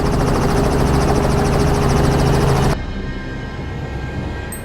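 A loud, steady helicopter engine whirs with rapid rotor chop during a wild boar chase, then cuts abruptly to a quieter, lower rumble partway through after landing.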